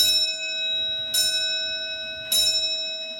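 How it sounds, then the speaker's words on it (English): A clock in Scotland chiming, two clear bell strikes about a second apart with long ringing tones sustaining between them, close and alone in a quiet room. "Unplanned and unscripted. This clock is not a paid actor."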